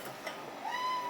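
A pet cat meows in a kitchen during tuna patty prep, giving one short faint call and then a longer, rising, steady meow toward the end, close by over quiet room tone.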